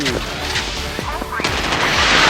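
Naval guns on a Type 055 Nanchang destroyer fire in the Modern Warships game, a series of sharp booming shots with ringing tones between them, building into a loud rushing blast near the end.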